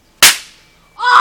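A single sharp pop from a homemade toy firework bursts loudly and close, then rings away before a voice cries out.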